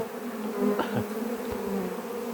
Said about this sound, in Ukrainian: Так я дивлюся за своїми роями.